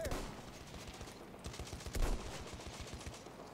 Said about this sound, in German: Feindliches MG!